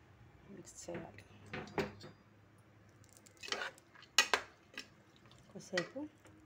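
A spoon stirs and scrapes tamarind rice with sesame powder and tempering in a pan on the stove, giving soft intermittent clinks and scrapes, faint and close in a quiet kitchen.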